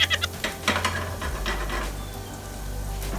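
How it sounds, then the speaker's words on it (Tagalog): Garlic sautéing in a little hot cooking oil in a pan, a steady close sizzle with a few scraping stirs near the start and no talking. "Mainit na yung pan natin. So, mantika. Konting mantika lang. Bawang muna, syempre."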